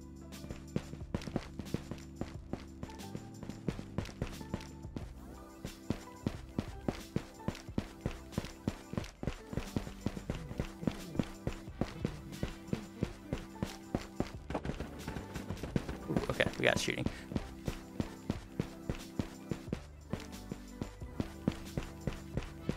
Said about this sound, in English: Now I'm just listening for footsteps.